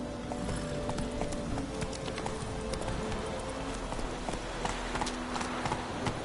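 Roach, a horse in The Witcher 3, gallops with a steady rapid clip-clop of hooves, close and continuous, over a low ambient bed with no talk.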